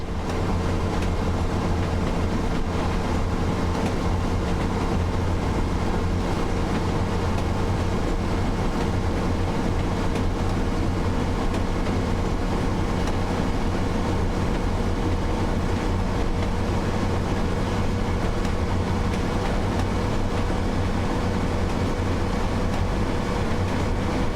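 A Class 142 Pacer diesel railbus in Train Sim World accelerates in notch 7 toward 55 mph, giving a loud, continuous engine drone with a steady hum that runs unbroken throughout, with no voices.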